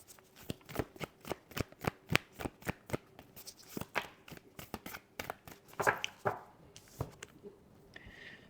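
A deck of tarot cards is shuffled by hand in a quiet room, giving a steady run of crisp, close slaps and riffles at roughly regular intervals before a final few looser shuffles, with no talking.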